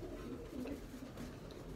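Pigeons in a loft give soft, low cooing calls that repeat under a steady background hum, faint and somewhat distant, with no talk.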